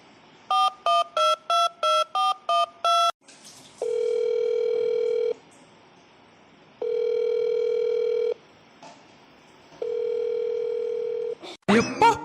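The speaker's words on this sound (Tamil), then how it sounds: "நான் வேணால் மாப்பிள்ளைக்கு இன்னொரு வாட்டி ஃபோன் பண்ணுறேன்" A phone dials a rapid series of eight touch-tone beeps, then plays three long, steady ringback tones separated by pauses, loud and close, ending in a brief burst of noise.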